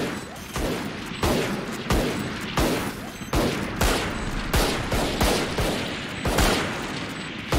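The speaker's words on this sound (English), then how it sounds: "I hate the golden gun so much. No, no. This ruins every single spike rush that has the golden gun." Golden gun fire in a Valorant spike rush match: a rapid series of loud, punchy shots at a steady rhythm, roughly one every half second or so, with no talking over them.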